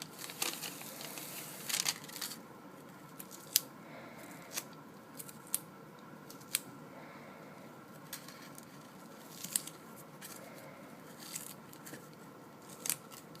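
Scissors snip adhesive medical tape for a wound dressing, a series of sharp, isolated cuts spaced a second or two apart over quiet rustling, close and fairly soft.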